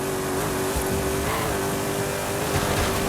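Mercedes AMG Hammer Wagon V8 engine in Forza Horizon 5, a steady loud droning roar held throughout at constant pitch, with no talk.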